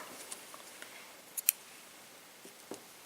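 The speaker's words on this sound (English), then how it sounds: "I'm going to cut my yarn" Scissors snip crochet yarn for a left-handed crochet square: two quick, faint clicks close together in an otherwise quiet room.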